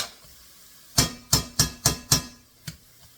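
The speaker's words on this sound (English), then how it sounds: "We want to make sure we get all of that roux stirred in there." A spoon drags through roux in a pot for crawfish stew in five quick, evenly spaced scraping strokes close by, followed by a short pause and one last softer scrape, with faint sizzling underneath.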